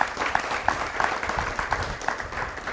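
An audience at a K9s For Warriors graduation ceremony applauds, giving a steady patter of clapping at moderate volume for a few seconds, with no one speaking over it.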